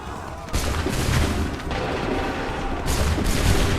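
Musket volley fire in Assassin's Creed 3, several loud gunfire bursts in quick succession over a dense battlefield din, with shouted commands faintly in the mix.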